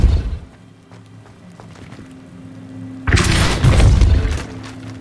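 A Depulso spell cast in Hogwarts Legacy lands as a sudden loud burst with a shattering crash partway through, following a quieter stretch of low ambient game sound.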